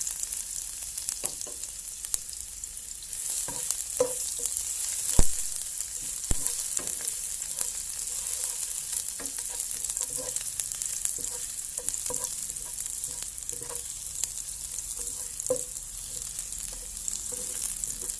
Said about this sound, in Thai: ใส่กระเทียมลงไปผัด